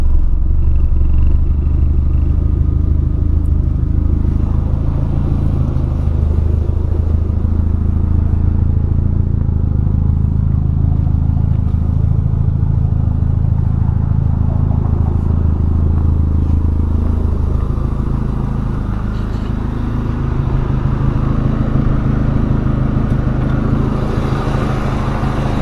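A 1992 Toyota Celica All-Trac with a 3S-GTE turbo engine and stock turbo idles roughly, a loud, continuous low rumble with uneven clattering pulses running throughout.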